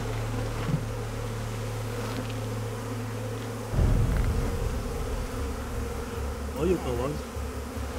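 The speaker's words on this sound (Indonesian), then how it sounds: "Ini banyak lebah." Dense swarm of bees buzzing loudly and continuously around people attempting a bee beard challenge, with brief speech over the steady drone.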